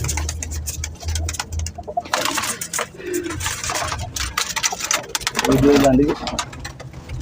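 Pigeons coo in low, throaty warbles beneath someone talking and a busy rustling background, the cooing swelling near the end.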